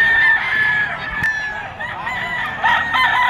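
A sweater gamefowl stag rooster crows at an outdoor pet market in Bocaue, Bulacan, its drawn-out call rising and falling close by amid market bustle and other fowl.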